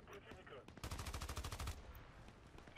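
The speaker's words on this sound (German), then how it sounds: "Aber da ballert doch irgendwo jemand mit der AK herum, das höre ich jetzt auch so aus dem Geschoss heraus" Automatic AK rifle fire in the online shooter Battlefield Play4Free, a loud rapid burst of roughly a dozen evenly spaced shots in the middle, with quieter scattered battle sounds before and after.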